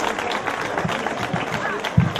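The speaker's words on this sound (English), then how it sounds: "we send that applause to the band, La Banda" A crowd at a celebration applauds a band, producing dense, steady clapping with a few sharper claps standing out near the end of a short stretch.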